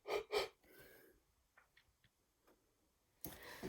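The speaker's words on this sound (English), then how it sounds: "I'm yawning, excuse me." A person yawns with a long, breathy exhale that follows a couple of louder bursts of sound and fades to quiet before other noise returns.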